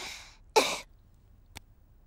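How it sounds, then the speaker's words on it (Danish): A cartoon character coughs after a deep breath in a doctor-play scene: an audible inhale, one loud, close, raspy cough, then a faint short hack a moment later, with no other sound. "Træk så vejret dybt ind og host."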